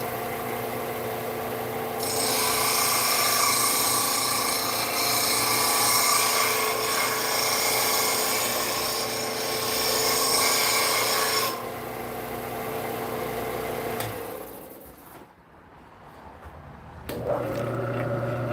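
Woodturning tool being sharpened on a grinder, a steady, loud rasping grind holding for about ten seconds before fading, then a brief quiet gap and a short return of grinding; no talking.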